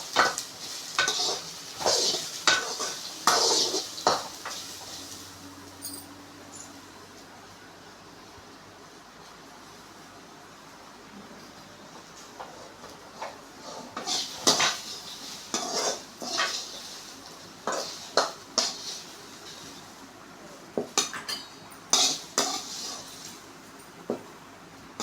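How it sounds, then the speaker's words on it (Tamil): Okra being sautéed in a pan for a vegetable poriyal, with a spatula scraping and clattering against the pan in bursts over a soft sizzle and a quieter stretch in the middle. "ஒரு 3 நிமிஷத்துக்கு நல்லா வதக்கிக்கோங்க."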